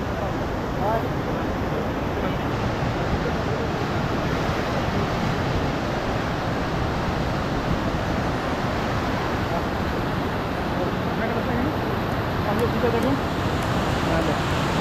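Waves of water churning at Parashuram Kund in Arunachal, a loud, steady, unbroken roar of rushing surf and wind that fills the whole stretch without pause.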